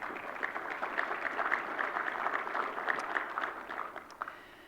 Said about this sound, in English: So big round of applause for sponsors.